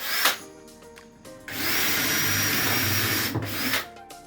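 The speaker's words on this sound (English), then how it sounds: "we find Henry's very good at hoovering anything up" A Henry vacuum cleaner hoovering up debris while boarding a floor, starting abruptly after a brief knock and running loud and steady for about two seconds before cutting off.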